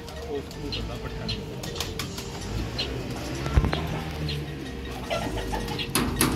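Teddy pigeons coo repeatedly in a loft in Sialkot, low rolling calls close by with occasional chirps, while someone talks over them and a car passes faintly.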